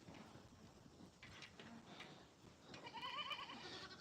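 A goat bleats in a farmyard with livestock, a wavering cry near the end rising over faint rustling and low background noise, fairly quiet overall.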